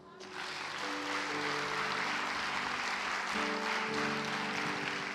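A church congregation applauding and cheering for Jesus, a dense steady wash of clapping that swells in and holds loud throughout, with voices and tonal sounds mixed underneath.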